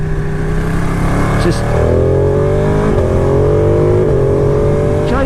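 A 2018 Ducati Panigale 959 Corse under way, its engine loud and close with rising harmonic pitch as it accelerates through gears, a brief shift dip midway, and someone talking over the engine note.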